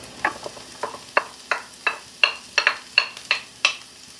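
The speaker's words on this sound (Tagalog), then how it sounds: "kung saan tayo nagprito kanina ng shrimp, doon din tayo magigisa ng ating ingredients" Onion and garlic being sautéed in the same pan used earlier to fry shrimp for palabok: about a dozen short, bright sizzling bursts in an uneven rhythm, as if stirred or tossed, close and fairly loud with no talking.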